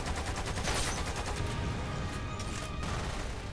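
Gunfire in the video game Lost Planet 2: a dense, continuous burst of rapid shots with loud crackling bursts throughout, sustained over a few seconds with no pauses.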